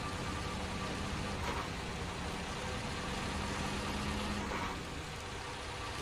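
A large tractor engine in a farming video game drones steadily as the machine pulls through a narrow doorway, a constant low rumble with a hissing, noisy texture and no one speaking.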